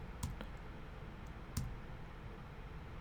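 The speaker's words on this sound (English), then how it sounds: "I'm hitting the backslash key on my keyboard" A few quiet, sharp clicks from a computer keyboard's backslash key pressed during photo editing, spaced out over a hushed background.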